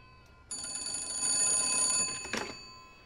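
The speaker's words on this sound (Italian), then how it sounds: "Ho sentito il telefono?" An old telephone bell rings indoors in an Italian comedy, one bright sustained ring of about a second and a half that starts abruptly, swells, then cuts off, followed by a short clatter.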